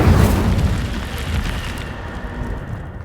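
A fire spell cast in Hogwarts Legacy erupts as a loud whooshing burst of flame, then fades into a sustained crackling rumble.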